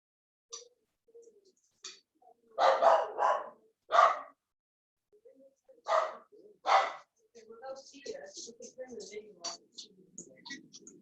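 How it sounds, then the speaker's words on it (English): A dog barks in several separate bursts, some in quick doubles, moderately loud against a quiet room, followed by softer scattered sounds and murmuring. "with a dog as accompaniment"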